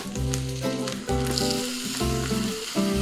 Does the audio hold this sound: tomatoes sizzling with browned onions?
yes